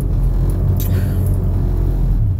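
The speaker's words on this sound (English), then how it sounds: "And as I'm driving up the street" A car driving up a residential street, heard from inside as a loud, steady low engine and road rumble with no break, close and continuous for a couple of seconds.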